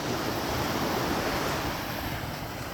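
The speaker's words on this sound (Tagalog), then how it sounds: "Ito yung dagat." Sea waves wash steadily onto a shore of dark, black-looking sand, making a loud, continuous broadband roar mixed with wind noise and no voices.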